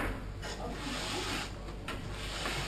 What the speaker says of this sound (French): on peut terminer avec une brosse en nylon